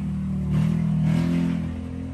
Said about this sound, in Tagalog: Sorry dun sa dumaan ng motor.